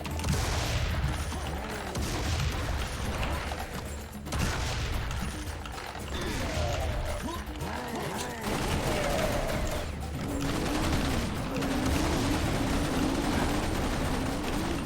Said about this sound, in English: I think the assault rifle is the only one that I prefer more than the classic sound effect